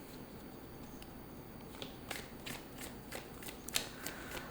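An oracle card deck from a Moonology set is shuffled by hand close by, giving faint, soft papery riffles and scattered light flicks over a quiet room background.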